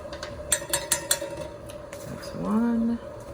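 A teaspoon clinks and scrapes several times against a container while carnauba wax is scooped out for a homemade lipstick base. A short tonal scrape or squeak follows near the end. The sounds are close and alone, with no talk over them.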